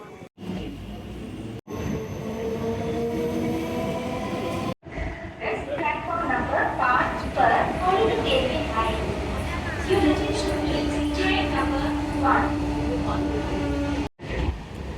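Goods train passing near St. Thomas Mount station, a loud continuous rumble and rattle of wagons with tonal squeals, heard close with voices in the background.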